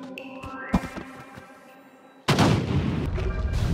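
A bomb detonates in Noita with a sudden loud, broad blast that cuts in partway through and rumbles on, following scattered clicks and game tones.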